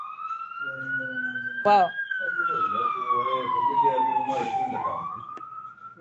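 A wailing ambulance siren passes outside, its rising and falling tone steady and moderately loud. A short exclamation and some murmured speech are heard beneath it.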